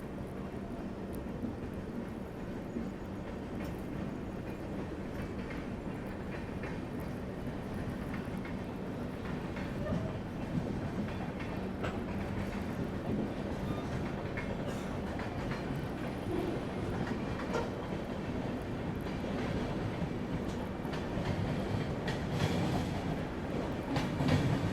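A Chennai–Bilaspur train rumbles steadily past on a parallel track with continuous rolling clatter and rhythmic wheel clicks, fairly distant and even throughout, with no voices.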